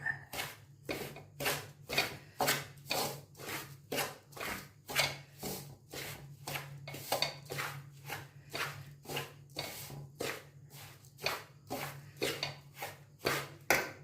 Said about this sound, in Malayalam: ഇതൊന്ന് ഇളക്കി യോജിപ്പിക്കാം